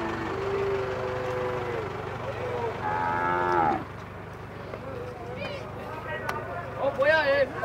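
Cattle moo loudly at an animal fair in Campina Grande, Paraíba: a long low bellow, then rising calls from several animals nearby, all over a bustling crowd.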